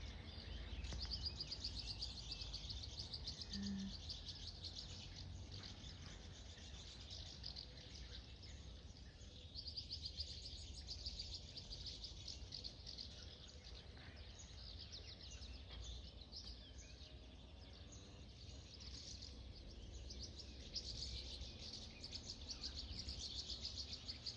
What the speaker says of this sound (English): You see the birds flying around.